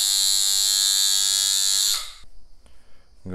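A tattoo machine with a needle cartridge buzzing loudly and steadily up close, then cutting off abruptly, leaving quiet handling clicks.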